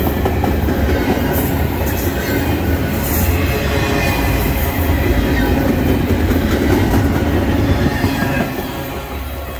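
A MARC commuter train in Maryland rumbles past close by, a steady loud roar of wheels and rail clatter that holds for several seconds before easing slightly at the end.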